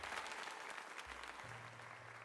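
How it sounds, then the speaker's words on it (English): Faint crowd applause in the video game Pokémon Legends Z-A, a steady, quiet wash of clapping during a tournament, with a low electronic tone entering partway through. "let us give another heartfelt round of applause to Hardy"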